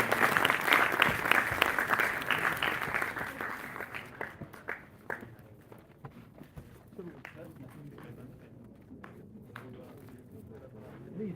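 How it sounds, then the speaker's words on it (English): Audience applause at the International Conference on Technical Textiles & Sustainability (ICTTS-2025), greeting a chief guest's honouring: a loud, dense burst of clapping that thins after a few seconds into scattered claps, with murmuring voices underneath. "Can I have a big round of applause?"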